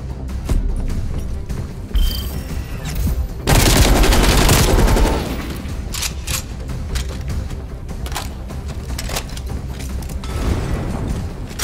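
Light machine gun fire in Call of Duty Black Ops Cold War: several loud bursts of automatic gunfire, with the heaviest sustained stretch in the middle and sharp single shots and clanking mechanisms scattered around it.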